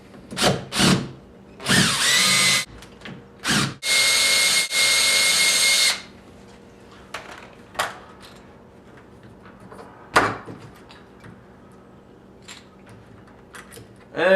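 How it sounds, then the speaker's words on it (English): A power drill backs out the catch screws on an old doorknob set in several short whirring bursts, one longer run around the middle, followed by quieter clicks and handling of the hardware. "So we're going to take out the catch screws."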